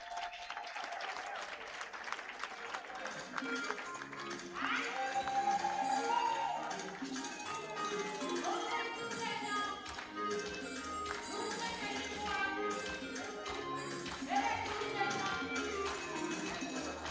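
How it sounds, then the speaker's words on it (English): Scattered audience applause at a health integration summit closing ceremony, with clapping hands rising and falling over a busy background of music and room noise. "let's applaud Kericho"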